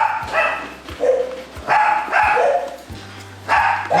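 A dog barks repeatedly at close range, short sharp bursts spaced in an uneven rhythm.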